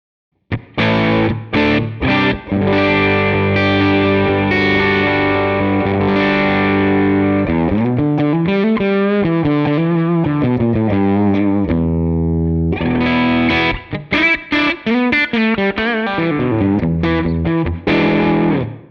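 Overdriven electric guitar through a Morgan tube amp plays loud riffs and sustained chords, with a short pause near the end and no talking.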